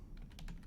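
Quiet, brief burst of typing on a computer keyboard, a handful of soft key clicks heard close up with no voice over them.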